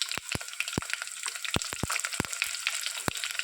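Finely chopped garlic hitting hot oil already holding mustard seeds, cumin and two bay leaves, giving a steady close sizzle broken by sharp crackling pops scattered through the clip.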